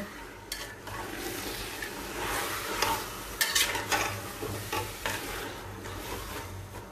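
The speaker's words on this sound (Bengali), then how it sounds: "এখন ভালো করে আদা রসুনের সাথে মিশিয়ে নিব" Tomatoes cooking with ginger and garlic in a pan are stirred with repeated scraping strokes over a soft sizzle. The sound is close and moderately loud, with no talking.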